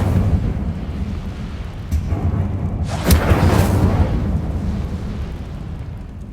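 Incendio fire spell cast in Hogwarts Legacy, a sudden whooshing burst of flame around the middle that rises over a steady low game rumble and then fades.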